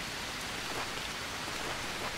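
Steady, dense rain pours down in the Amazon jungle survival game Green Hell, a continuous close hiss of drops drumming on surfaces with no pauses and no voices.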